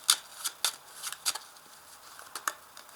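Tarot cards are shuffled and drawn in a quiet room, giving several crisp papery riffles and snaps spaced unevenly across a few seconds with no voices.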